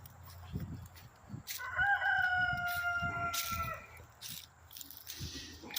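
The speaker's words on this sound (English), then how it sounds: "So yeah, I got some chickens." A rooster crows loudly nearby amid scattered thumps and shuffling, with a low background rumble throughout.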